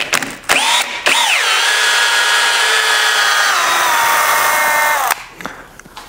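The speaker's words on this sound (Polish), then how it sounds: "I oczywiście muszę teraz trzymać tą wkrętarkę jakby z drugiej strony, bo ona się będzie chciała teraz kręcić w drugim kierunku." A cordless drill driver backs a long screw out of wood, its motor whining loud and steady for about four seconds after a couple of short bursts, then cutting off.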